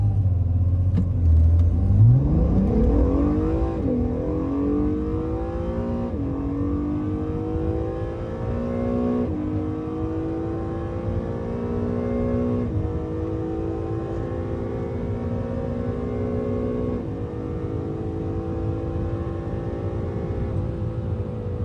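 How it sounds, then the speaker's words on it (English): A 2017 Acura NSX hybrid accelerates hard on a race track, its engine note climbing steadily through the gears with rising harmonics, loud and close, no talking. "I'm gonna take the 2017 NSX for a rip."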